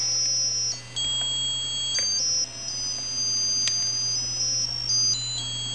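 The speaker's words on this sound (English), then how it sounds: "you can hear these little tones as I move the joystick up and down" Small electronic tones from an AVR microcontroller's PWM output fed into a TV, stepping through steady beeping pitches that shift abruptly as a joystick is moved up and down, over a constant low hum, with no voices.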